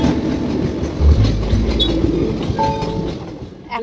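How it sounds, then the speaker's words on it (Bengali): A train rumbles past a closed railway crossing with loud, close clattering wheels and a low rolling roar that swells midway, plus faint squeals of metal. "একটা ট্রেন গেল, এখনো গেট বন্ধ"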